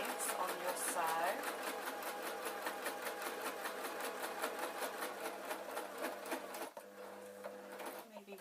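A sewing machine stitches denim skirt fabric in a fast, steady run of needle strokes, close and clear, pausing briefly near the end before a few more stitches.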